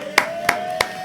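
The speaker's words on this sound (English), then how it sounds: "Why are you clapping?" Four sharp hand claps at an even, unhurried pace, close and fairly loud, over a faint steady hum.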